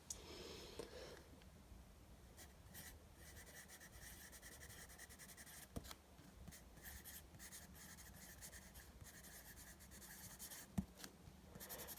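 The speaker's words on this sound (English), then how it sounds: "So let's start here with the pencil." A pencil writes on Midori paper close up, making a quiet, continuous scratchy rubbing broken by short strokes and tiny taps.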